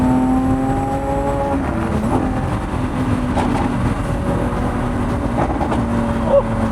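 A Lamborghini's naturally aspirated V12 drones steadily and loud at close range, its engine note holding with slight rises in pitch rather than sharp revs, accompanied by faint voices.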